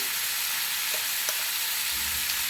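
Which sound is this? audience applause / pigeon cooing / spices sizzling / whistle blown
spices sizzling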